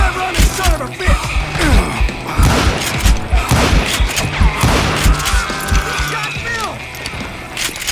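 Rapid gunfire in the Western shooter Call of Juarez: Gunslinger, loud bursts of shots and booms with clattering mechanisms and hoofbeats, mixed under shouting voices.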